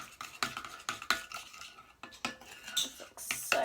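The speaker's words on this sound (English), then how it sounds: "Now I'm gonna stir this all up." Glitter slime being stirred in a container: a string of quick, close, irregular stirring strokes and soft clinks of a utensil, fairly quiet, with brief pauses and no talking.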